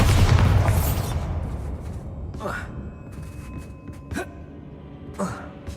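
Casting Bombarda in Hogwarts Legacy sets off one loud, booming blast at the start that fades out, followed by quieter whooshing magic effects.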